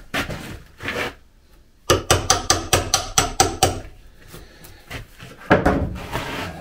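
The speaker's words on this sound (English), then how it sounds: "Believe me, this chisel is sharp, but this oak is really hard." Sharp chisel cutting into hard brown oak for a brass door hinge recess: a rapid series of about nine sharp, evenly spaced knocks up close, with a few louder isolated taps and scraping before and after.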